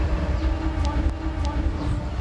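A Bangunkarta passenger train rumbles steadily with low mechanical noise and faint rhythmic clatter, a couple of brief high squeals cutting through, at a level crossing in Sleman, Yogyakarta, where it struck a minibus.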